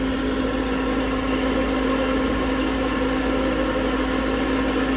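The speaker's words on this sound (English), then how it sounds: "See here, not all the fans are spinning up." GPU mining rig with Nvidia GTX 1070 cards and several case fans, some not spinning, producing a steady close whirring hum with a constant tonal drone and no talk.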